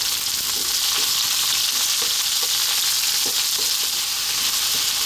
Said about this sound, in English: We're now going to drop in our onion. I'm going to add some salt.